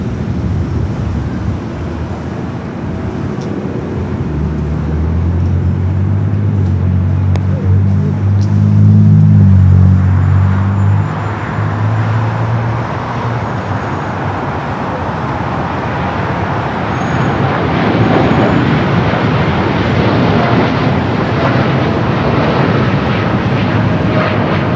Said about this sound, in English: United Dreamliner heading to Newark